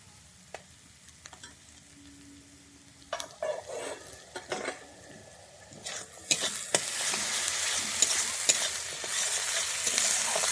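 Ginger-garlic paste fries in a pan for fish kalia, starting with quiet clinks and stirring scrapes, then swelling into a loud, steady hiss of sizzling oil with no speech.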